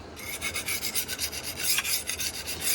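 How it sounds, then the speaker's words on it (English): A cheap $10 knife is sharpened freehand on a stone, giving a close, steady series of quick rasping strokes in an even back-and-forth rhythm with no talking. "the reason I like the freehand sharpen is I can focus on specific areas"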